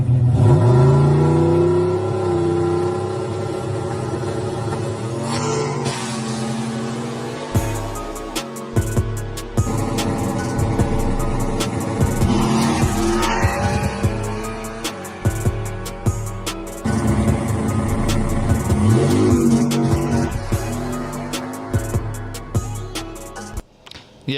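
A car launches and accelerates hard, its engine revving through rising gear pulls with clattering, squealing bursts over a droning background across the whole stretch.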